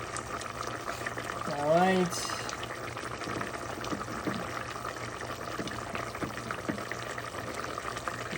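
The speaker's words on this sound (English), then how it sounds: "That's the potato boiling." Soft bubbling of a pot of potatoes boiling on the stove, a low steady simmer, with a brief spoken word near the start.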